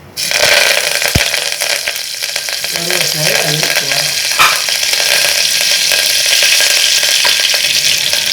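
Mustard seeds and curry leaves sizzle loudly in hot oil for a Tamil chicken kurma, giving a dense, continuous hiss with scattered crackles and pops and a brief stirring scrape, heard up close.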